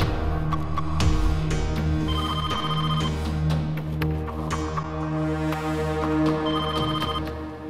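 Telephone ringing heard from the caller's end of an outgoing call: a repeating electronic ring tone with a steady rhythm, fairly loud and continuous, with faint background music underneath and no talking.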